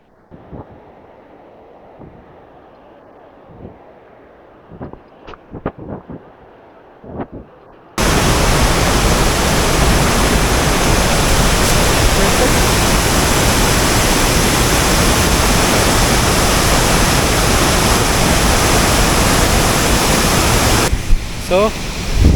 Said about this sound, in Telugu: ఇదే పొల్లూరు వాటర్ ఫాల్స్.